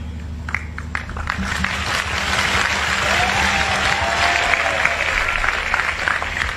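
Audience applause at a live stage event, a loud sustained wash of many hands clapping that builds and holds steady over a low musical hum.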